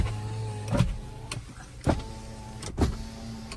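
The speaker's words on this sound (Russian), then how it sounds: "складывается зеркала" Electric side mirrors on a 2019 Kia K3 fold with short motor whirs and clicks, three brief bursts spaced about a second apart over steady engine-like hum, close by.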